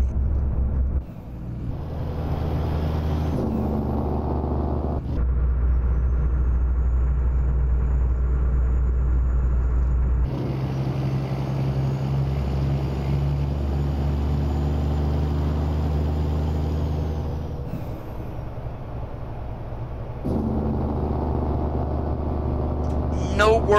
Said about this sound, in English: you want to hear the Jake from the outside, George?